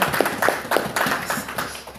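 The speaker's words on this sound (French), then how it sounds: "Applaudissons pour le Seigneur" Audience clapping at a gathering, a handful of hands striking in a rough rhythmic beat, moderately close and fairly quiet, with no talk over it.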